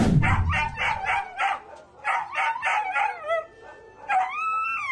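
A dog in Punta Santa Ana, Manila, being beaten by a man gives repeated high yelps and howling cries in pulsing bursts, close and loud, ending in drawn-out whines.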